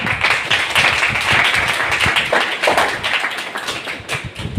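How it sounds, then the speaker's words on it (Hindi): An audience gives loud, sustained applause to welcome a student at a coaching class, dense clapping that fills the whole stretch with no talking over it. "आज अपने विद्यार्थी का चयन हुआ है पटवार में, तो जोरदार तालियों से स्वागत।"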